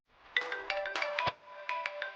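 A phone ringtone chirps in quick bursts of bright, bell-like tones, about three close clusters with short gaps, moderately loud and clear with no talk over it.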